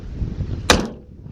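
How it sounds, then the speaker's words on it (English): A heavy car door on a 1990s Mazda FD RX7 is slammed shut once, a single sharp close thud after low background rumble. "Heavy door."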